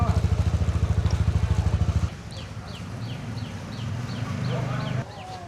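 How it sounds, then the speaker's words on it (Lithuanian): A motorcycle readied for a guided tour on a dangerous road in Vietnam, its engine thumping in a fast steady idle pulse up close, then dropping to a lower rumble that builds and cuts off, with faint bird chirps behind. "Varom ant motociklo"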